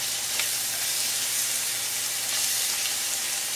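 Onions sizzling under a lid in a pan on medium heat for mujaddara, a steady, dense hiss with fine crackle that stays even and close across the whole stretch, no talking.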